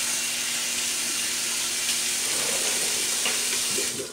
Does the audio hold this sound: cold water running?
yes